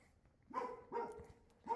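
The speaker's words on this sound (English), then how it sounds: "you can hear my dog out there barking for some reason" A dog barks three times in a rough, spaced rhythm, sounding faint and distant as if heard from outside.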